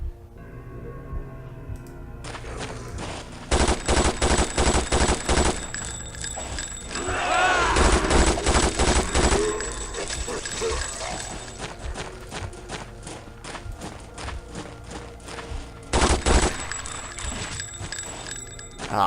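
Rapid chain gun fire in Vampire: The Masquerade - Redemption, loud dense bursts of clattering shots that start and stop in several volleys.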